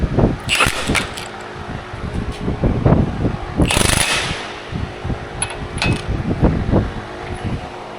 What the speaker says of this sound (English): Let's tighten it up. Alright, 1 1/8" socket.